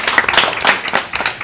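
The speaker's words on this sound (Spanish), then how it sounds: "Bueno, un fuerte aplauso para Oneli." Brief burst of audience clapping at a talent showcase, a short ragged patter of hands rising and fading within a moment.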